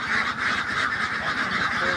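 A dense flock of Belgian ducks on a farm in Satkhira keeps up a continuous loud chorus of overlapping quacks and honks, close and unbroken.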